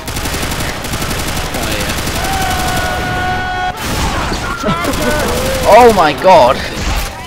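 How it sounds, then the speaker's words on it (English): Heavy machine-gun fire in a video game rattles in rapid, sustained bursts up close, with a player's excited voice breaking in over the shooting. "I'll get on the heavy gun there"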